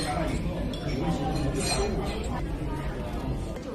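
Glasses of homemade Chaoshan bayberry wine clink together in a toast amid lively chatter from a crowd.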